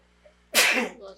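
One sharp human sneeze bursts out close and loud after a near-silent moment, then fades quickly.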